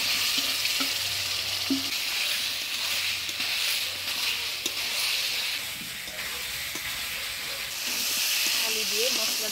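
Potatoes and a tomato, haldi and salt masala sauté in a pan in Bengali village cooking, a steady close hiss and sizzle with occasional light scrapes and clinks of stirring.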